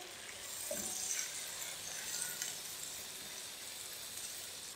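Chopped tomatoes with ginger-garlic paste fry in a pan for pav bhaji, giving a steady, fairly close sizzle with faint scraping as the mixture is stirred, no voices.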